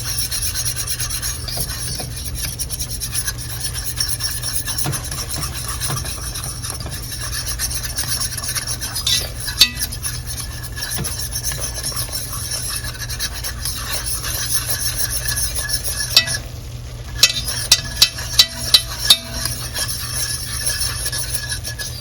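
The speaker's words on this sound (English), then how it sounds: "Now we definitely want to keep it stirred." Flour is stirred into a sauce base for au gratin potatoes, giving a steady, continuous scraping and rubbing against the pan with a few light clinks near the end and no talking.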